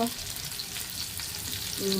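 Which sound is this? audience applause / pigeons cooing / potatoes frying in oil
potatoes frying in oil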